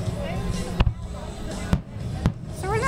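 Fireworks exploding at a display in Kemah, three sharp booms spaced about a second apart over a murmuring crowd, with people talking and cheering between the blasts.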